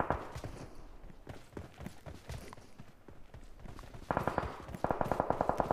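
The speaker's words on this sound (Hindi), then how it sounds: "ओ इस साइड से भी फायर आ रहा।" Gunfire in PUBG Mobile, rapid bursts of automatic shots crackling in quick regular rhythm, sparse and quieter early, then louder, denser volleys near the end, with footsteps mixed in.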